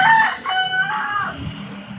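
A rooster crows once nearby, a loud, drawn-out cock-a-doodle-doo standing alone over faint background noise.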